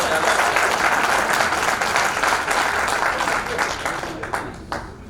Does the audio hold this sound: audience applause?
yes